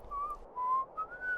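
A person whistles a slow, calm tune in short sustained notes, clear and close against a quiet background, as in an audio drama.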